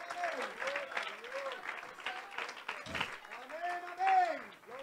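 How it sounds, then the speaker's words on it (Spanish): Church congregation applauding in scattered bursts of clapping, with voices murmuring and calling out around it at a modest distance. "Démele un aplauso."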